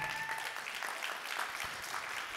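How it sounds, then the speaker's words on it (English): A church audience claps at a sermon, a steady dense patter of many hands held at an even level through the whole stretch, with a faint voice under it at the start. "Clap your hands if this is good so far"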